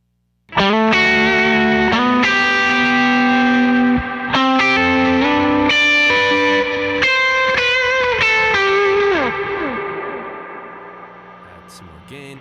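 Electric guitar through a Twilight Pulse Audioworks Konstante pedal plays a lead tone, sustained distorted notes and bends with effects, loud and up close, ringing out and fading over the last few seconds.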